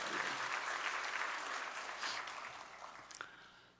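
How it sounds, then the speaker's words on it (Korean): A church congregation at a Sunday worship service in Pohang claps in praise, a thick burst of many hands that gradually fades, with a few sharper claps near the end. "우리 주님께 영광의 박수"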